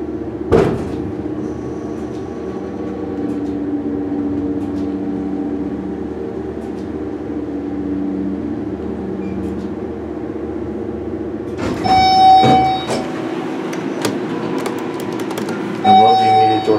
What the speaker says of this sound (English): I love the immediate door close.